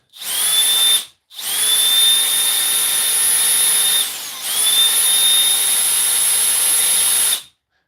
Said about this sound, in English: This is a full brushless motor and switch assembly.